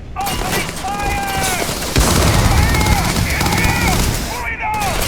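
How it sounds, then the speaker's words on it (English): Gunfire and combat effects from Starfield: continuous battle noise with dense shots and a louder burst near the two-second mark. A character voice and radio-like callouts run over it from start to finish. "Light 'em up! Enemy located. I'm going for it! Opening fire!"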